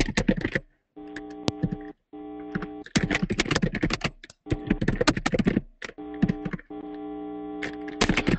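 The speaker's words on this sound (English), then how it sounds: "he's going to be typing his questions into the question box" Rapid, irregular clicks of keys being typed on a computer keyboard, close and crisp in bursts separated by short pauses, over a steady electrical hum.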